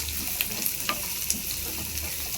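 Potatoes frying in a pan of oil with onion, chilli and garlic, a steady close sizzle with occasional soft clicks of stirring.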